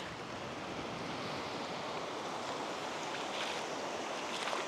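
Steady broadband rush of sea surf at a beach, faint and continuous, with a soft windy hiss and no voices.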